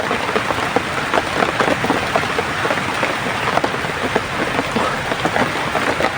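Steady, heavy rain pours down continuously, a dense hiss with scattered drops pattering throughout and no voices.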